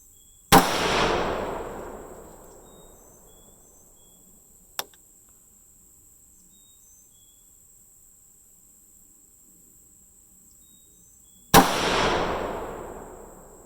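Two loud, sharp .223 Remington rifle shots firing 75gr BTHP handloads ring out about eleven seconds apart outdoors, each cracking then decaying, with a small click between them.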